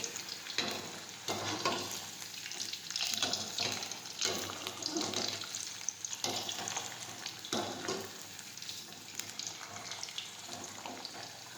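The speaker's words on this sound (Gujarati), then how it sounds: "હવે આપણે તેમાં બટેટા તળી લઈશું પહેલાં." Hot oil sizzles steadily as potatoes fry, with periodic stirring scrapes, close and continuous.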